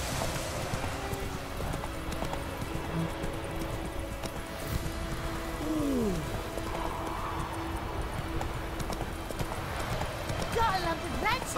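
In The Witcher 3, the horse Roach trots with a steady clip-clop of hooves, faint under constant game ambience and music. A short rising tone is heard midway.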